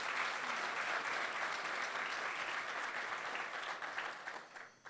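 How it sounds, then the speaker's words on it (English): A conference audience applauds the staff team in a large hall, a dense, sustained clapping that holds steady for several seconds before starting to thin out near the end. "If you would give them a warm round of applause."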